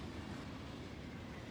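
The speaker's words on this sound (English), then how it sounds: "slow down for that train" A train slowing as it pulls into a copper unload station in the Factorio video game, a faint, steady rolling rumble with no voices.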